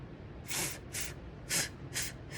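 A voice imitates a fountain spraying water with five quick, soft breathy bursts in an uneven rhythm.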